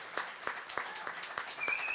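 Audience applause at a mental health town hall, a small scattered round of claps, fairly faint, with several distinct hand claps standing out rhythmically.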